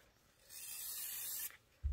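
An aerosol can sprays fabric spray onto quilt fabric inside a spray tent, a single close hiss lasting about a second, followed by a soft thump.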